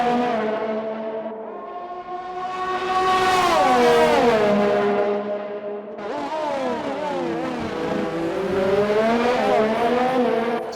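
Rallycross race cars at Baku scream past one after another, their engines climbing and falling in pitch through gear changes, loud and close, with a second car's note rising in as the first fades.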